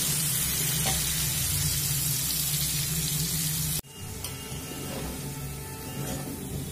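Potatoes frying in a covered pan over a medium flame, a steady, dense sizzle that runs continuously with a brief break partway through and no talking.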